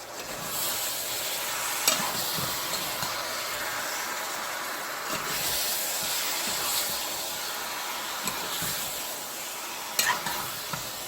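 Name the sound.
stirring a pot of Trinidadian stew pork ribs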